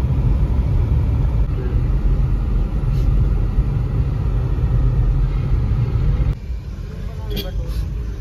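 A car rolls along a road in Jammu after denting and painting work, its steady low engine and tyre rumble continuous and close, dropping slightly quieter toward the end with a few faint clicks.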